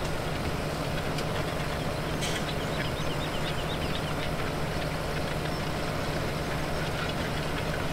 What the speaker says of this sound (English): I can't say I've ever quite heard that startup sound either